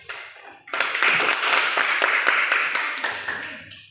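A classroom gives a student's answer a round of applause, a burst of many clapping hands that starts suddenly after a moment of quiet, holds for a few seconds and then fades away.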